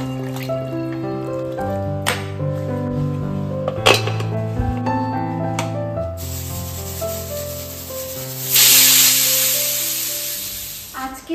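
Cooking mutton in a pan with scraping and stirring at first, then a sudden loud hiss and sizzle as water hits the hot meat, which fades over several seconds.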